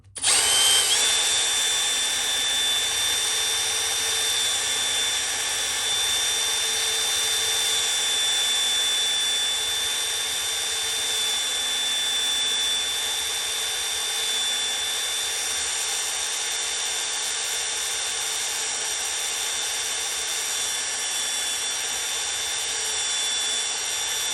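A power drill spins a bit on an 1982 Mercedes 380SL, a continuous high whine that holds steady and fairly loud, with no other sound.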